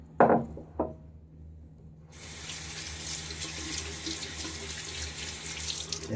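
Tap water runs into a sink during a shave as the face is rinsed, a steady close splashing rush that begins after two brief knocks and continues to the end.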